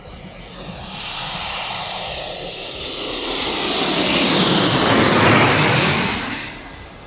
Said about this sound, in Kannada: ಬರ್ತದೆ ಒಂದು ಫ್ಲೈಟ್ ಬರ್ತದೆ ಆಲ್ರೆಡಿ